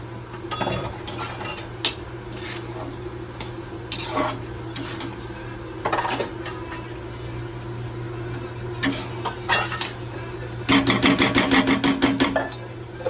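A spoon scraping and clinking in a pan as vegetable curry of eggplant and potato is mixed with fresh coriander, irregular scrapes over a steady hum, with a faster run of metallic taps near the end.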